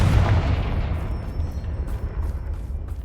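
Confringo explosive spell blast in the video game Hogwarts Legacy, a single loud booming burst at the start that rumbles and decays over a few seconds.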